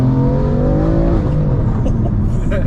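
A 560bhp BMW M3 engine blips and blends revs during a downshift while driving, a loud close cabin drone with a pitch that rises then falls, a voice briefly under it.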